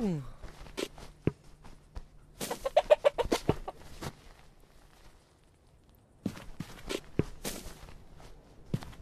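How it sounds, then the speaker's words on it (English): Chickens cluck in short bursts over close footsteps and scuffling, a rooster-like call rising among them, while people talk intermittently nearby. "Chickens."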